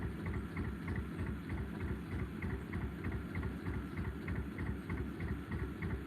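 A narrowboat engine runs at low, easy revs through a gentle turn, a steady, rhythmic chugging close by with no voices.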